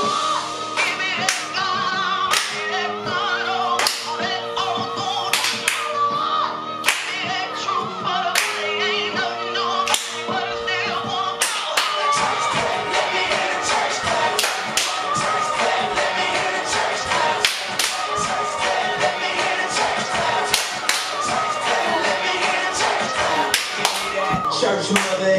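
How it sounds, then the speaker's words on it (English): Hands clap in sharp, regular beats alongside shuffling dance steps during a church clap line dance, loud and rhythmic over a steady music track, with brief voices mixed in. "we are going to do the church clap dance"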